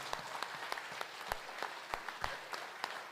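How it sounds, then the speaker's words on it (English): An audience at a healthcare quality committee workshop gives a panel doctor a short round of applause: steady, moderate clapping with distinct individual claps standing out, heard alone without speech. "Let's give him a round of applause."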